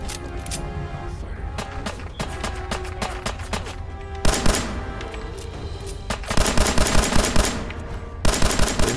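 Gunfire rattles in the video game Fallout 4, loud rapid automatic bursts crackling almost without pause, with heavier clustered volleys near the middle and toward the end.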